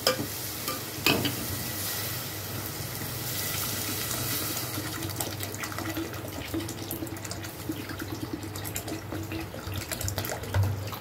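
Water is poured into a cooking pot holding dal and dalia, a continuous gushing splash with hissing and stirring scrapes, close and steady throughout, with no one talking.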